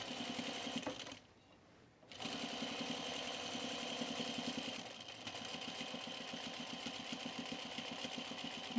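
A sewing machine with a binding attachment stitching a V-neck coat runs fast in a steady mechanical whir with rapid needle rhythm, pausing once briefly before resuming at full speed.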